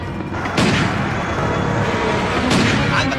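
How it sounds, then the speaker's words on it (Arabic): Gunfire in an Egyptian action film scene at a petrol station: two heavy, booming shots about two seconds apart, each followed by a rumbling decay over a tense background. "وبيضربوا علينا رصاص"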